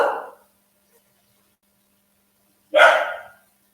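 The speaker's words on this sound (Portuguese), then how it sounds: "Acho que seu cachorro quer participar também, né?" A dog barks twice indoors during an online talk, one short bark opening and another about two and a half seconds later, each loud and close with silence between.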